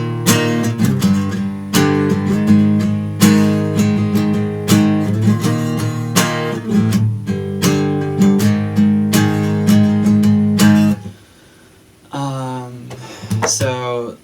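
Distorted electric guitar power chords playing a riff, chugging rhythmically and loud for about eleven seconds before a brief drop and a few more strummed notes.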